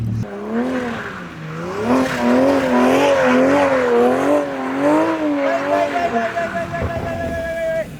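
A Subaru STI drifts on snow, its engine revving up and down in wavering surges over about eight seconds, loud and close, with a tone that steadies into a held whine near the end.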